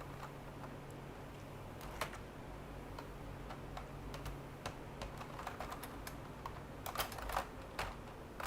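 Typing on a computer keyboard, a quick irregular stream of close, crisp key clicks that grows busier toward the end, with no voices over it.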